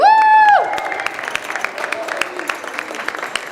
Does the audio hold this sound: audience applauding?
yes